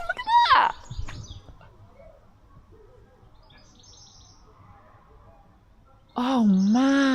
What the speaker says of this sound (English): I can hear goldfinches.